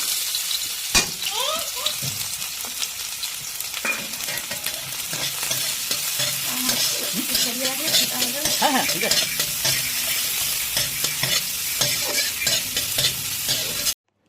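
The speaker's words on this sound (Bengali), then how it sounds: "এখানে তো পেঁয়াজ লঙ্কা ভাজা চলছে" Chopped onion and green chili sizzle and crackle in mustard oil for chowmein, with steady spatula stirring and scraping throughout; a voice speaks briefly near the start.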